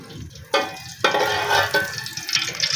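Whole spices such as cumin, bay leaf and cinnamon fry in hot ghee for a tadka tempering. Sudden loud bursts of sizzling start as they drop into the fat, then settle into a steady, close crackling hiss.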